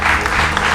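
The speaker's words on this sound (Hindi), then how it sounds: "जोरदार तालियां इनके लिए, श्याम बाबू के लिए" A brief burst of audience applause for a magician in a comedy show scene, a dense loud wash of clapping lasting under a second.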